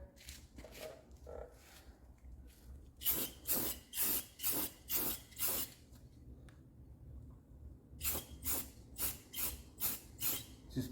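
Gold metallic paint hisses from a spray can in short bursts, a few soft ones first, then two quick runs of rhythmic close passes separated by a quiet pause.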